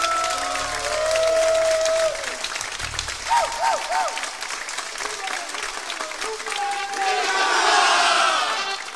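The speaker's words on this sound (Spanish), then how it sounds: "Vamos a darle un fuerte aplauso a la Virgen María." A crowd of men at a Catholic retreat breaks into loud applause and cheers, the clapping swelling and fading in waves, with a voice and brief music tones heard over it.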